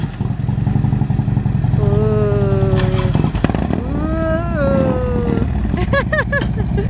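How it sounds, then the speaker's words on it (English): Harley motorcycles and a Harley converted into a trike rumble steadily as they ride off from a Sam's Club parking lot, with people talking loudly over the engine noise. "my mom drives a Harley trike. So she bought a Harley, converted it into a trike."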